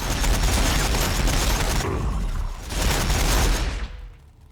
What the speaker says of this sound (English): Warbikers firing, boss!